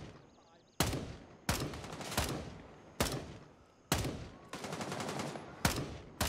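Gunfire in the video game Gray Zone Warfare: a run of loud, close shots and short bursts, each sharp crack trailing off in a reverberant tail, spaced irregularly with a longer sustained volley near the end.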